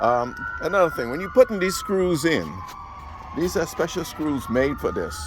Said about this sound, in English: Excuse the fire engine. I believe that's the fire engine,